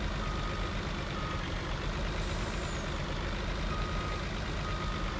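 Truck in Farming Simulator 22 reversing, a low steady engine rumble under faint beeping, with a short hiss of air brakes releasing midway.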